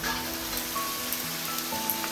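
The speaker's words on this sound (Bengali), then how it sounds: "চিংড়ি মাছগুলো ভেজে রেখেছি, দিয়ে দিলাম।" Fried prawns dropped into a hot pan for jhinge chingri posto, setting off a dense, loud, steady sizzle up close with no talk.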